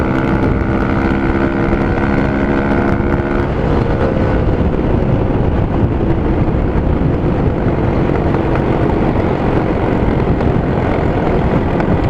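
A motorcycle fitted with a lightweight Yoshimura USA slip-on performance exhaust runs loud and steady with no talk, opening with a droning harmonic engine tone that gives way after a few seconds to a rougher, broadband rumble.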